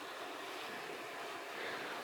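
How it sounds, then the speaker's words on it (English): Water trickles and flows faintly through the cracks between rocks beneath a cave floor, a soft steady hiss with nothing else heard. "there's water flowing down in the cracks between the rocks underneath me"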